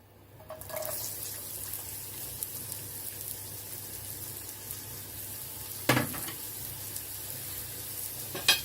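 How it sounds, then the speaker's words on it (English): Onion hits hot oil in a wok, starting a soft, steady sizzle that carries on quietly with a brief clatter of a utensil partway through. "Put your oil in the wok. Add your onion."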